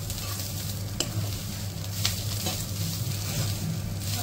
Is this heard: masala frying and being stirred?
yes